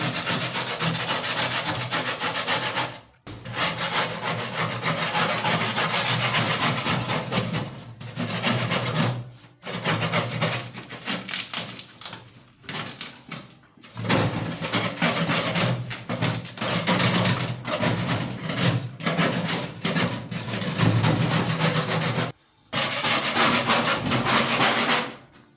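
A scraper rasps steadily over catfish being prepared for drying, a loud, close, continuous scratchy rubbing that runs in long strokes with a few brief pauses between passes.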